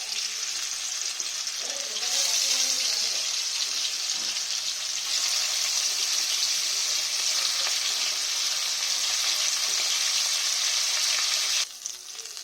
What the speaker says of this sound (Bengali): এবার আমি মাছগুলো একটা একটা করে ভেজে নেব